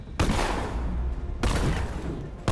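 Gunfire in Batman: Arkham Knight: loud, close bursts of rapid shots, with a long sustained volley followed by another burst and a third starting at the end.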